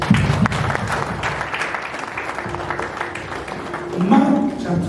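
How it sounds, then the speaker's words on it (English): A church congregation at a revival service claps in a loose, scattered burst. The applause is moderate and sits under continuous speech from the front. "please clap for ourselves."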